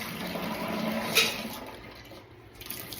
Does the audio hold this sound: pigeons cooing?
no